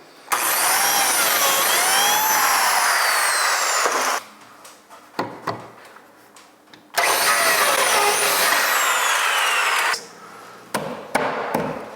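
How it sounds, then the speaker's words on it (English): An oscillating multi-tool buzzes loudly while trimming wooden biscuits flush during coffered ceiling work, two long sustained cuts separated by quieter knocks and clicks, with brief taps at the end. "I'll just trim them with the multi-tool."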